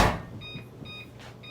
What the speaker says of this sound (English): All right, so into the microwave for 45 seconds.